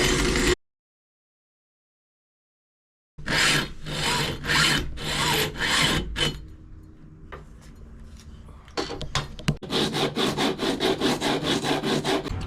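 Copper propane tubing on a sailboat is cut by hand with a saw. A short silence is followed by rhythmic, rasping back-and-forth strokes that pause briefly and then resume faster, close by, no talking.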